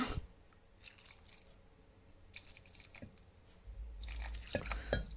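Homemade fish sauce, about three tablespoons, poured into a bowl, quiet splashes and drips coming in a few short bursts close by.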